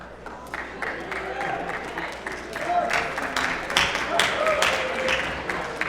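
Audience clapping at a senior awards ceremony: a steady, moderate wash of many hands clapping from a crowd, lasting several seconds, with no talk on top.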